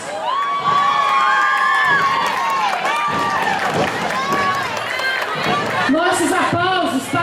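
A crowd at a Sete de Setembro Independence Day student parade in Mantena, Brazil, cheering and shouting loudly and continuously with excited children's voices and scattered whoops, close and dense throughout.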